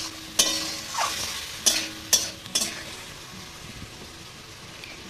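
Spice masala stir-fried in a pan, soft frying hiss broken by a few sharp scraping stirs of a spatula, close and fairly quiet.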